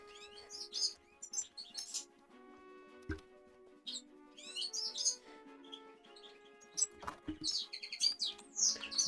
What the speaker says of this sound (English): the bird is so loud